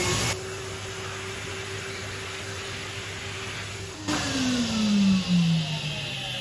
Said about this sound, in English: Now we'll get the hoover and the sock out, hoover up the excess.